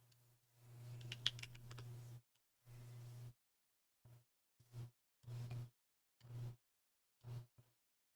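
A KBDFans Margo mechanical keyboard is typed on in clusters of quick, close keystroke clatter separated by silent pauses, with a low steady hum under each burst.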